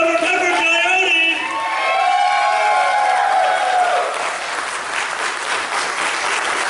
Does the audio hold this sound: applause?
yes